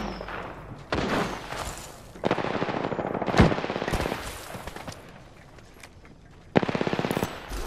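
Rapid automatic gunfire in the battle royale game Apex Legends, several loud sustained bursts separated by short pauses, with quieter game effects between them.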